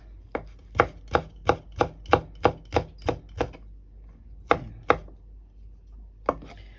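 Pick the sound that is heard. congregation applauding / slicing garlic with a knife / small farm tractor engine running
slicing garlic with a knife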